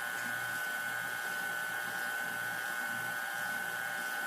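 A stand mixer fitted with a dough hook runs steadily, a continuous close motor whine with a constant tone and no pauses.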